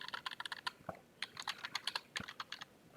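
Rapid, uneven keystrokes on a computer keyboard, a burst of clicks, a short pause, then another quick run of typing, close and fairly quiet with no voices.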